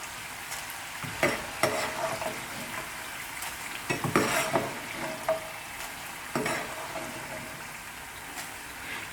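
French fries frying in oil, a constant crackling sizzle overlaid with several sharp metallic clinks and scrapes as a utensil stirs and scoops the pan.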